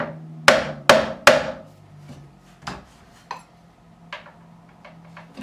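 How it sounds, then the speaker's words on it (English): Several sharp metallic hammer taps on the frets of a Squier bass guitar, three strong ones close together, then lighter scattered knocks, each with a brief ringing tail. "Always support the fret you're hammering."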